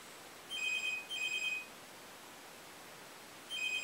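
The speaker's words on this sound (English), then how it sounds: "my house phone's ringing." A house telephone rings indoors in two quick electronic trills, then a pause before a third ring begins, fairly faint in a quiet room.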